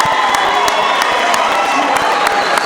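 A crowd at a girls' varsity basketball game cheers loudly and continuously, with shouts, whoops and scattered sharp claps throughout.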